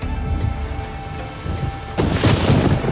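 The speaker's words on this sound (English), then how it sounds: "The storm, damn it." Rain and rumbling thunder in a Witcher 3 storm on Skellige, a steady wash of rain that swells into a louder crack and roll of thunder partway through, with no voices.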